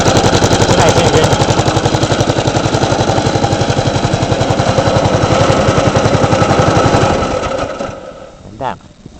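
Custom Murray lawn mower engine running with a rapid, loud, steady chugging rhythm close by, then winding down and cutting off near the end.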